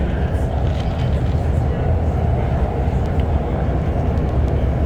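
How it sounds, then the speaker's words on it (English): A steady, heavy low rumble fills the whole stretch as a long freight train rolls past below in Montreal's former Canadian National Railway yards, at constant loudness, with a voice talking faintly over it. "we got a nice freight train here going by right underneath us"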